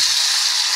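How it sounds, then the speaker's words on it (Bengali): Potatoes hit hot oil in a wok, giving a brief, close burst of bright hissing sizzle. "কড়াইতে তেল গরম হয়ে গেছে। এবার আমি এর মধ্যে দিয়ে দেবো"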